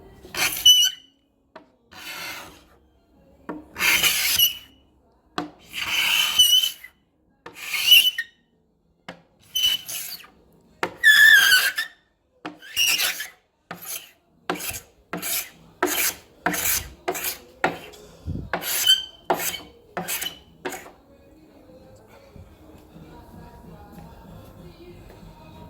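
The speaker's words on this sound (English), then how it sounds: "So you use the scraper first and you get it out." Hand scraper strips varnish from a wooden table top in a steady series of sharp rasping strokes, bursts coming faster toward the end before fading to quiet room noise.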